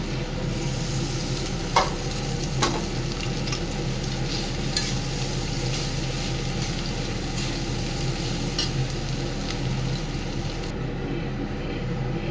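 Leftover stale rice is tossed and stir-fried in a hot pan, making a continuous loud sizzle broken by scraping stirs and a couple of sharp spatula knocks.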